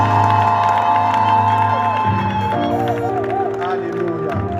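A church congregation cheers and shouts acclamations, a loud sustained crowd roar with whoops, backed by steady music.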